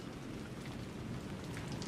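Steady rain falls in a city plaza in the video game Alan Wake 2, a dense, even hiss of drops on paving at moderate level, continuous throughout with no voices.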